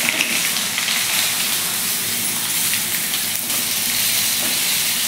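Brinjals (eggplants) hitting hot oil with asafoetida and turmeric, a loud steady sizzle and crackle that fills the whole stretch without letting up, with no voices over it.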